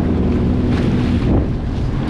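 A Sea-Doo personal watercraft riding on a river near the Peace Bridge: a steady, loud engine drone mixed with rushing water and heavy wind buffeting the microphone.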